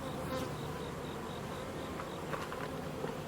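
Steady buzzing of many honey bees from a hive box fills the air continuously, a close, dense hum with no talking.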